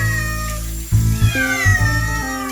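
A cat being bathed meows repeatedly in drawn-out, whiny complaints, several rising and falling calls in quick succession, close and loud.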